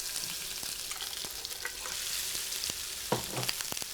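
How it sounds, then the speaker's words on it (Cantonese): Jun'an fish cakes made from minced, beaten fish sizzle in a frying pan, giving a steady close hiss of hot oil with scattered small pops and no voices. "煎出嚟嘅魚餅卻有爽脆嘅口感。"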